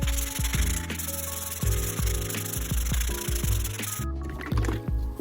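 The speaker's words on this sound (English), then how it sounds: "It makes sanding so much easier." Steady rhythmic rubbing of sandpaper or a sanding tool against a wooden charcuterie board, close and continuous with brief pauses, no voices.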